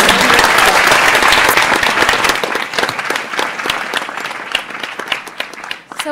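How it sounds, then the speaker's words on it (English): Listeners at a university panel on unequal justice applaud the panelists, a dense, loud burst of clapping that thins into sparser individual claps as it tapers off. "Can we just give them one more round of applause?"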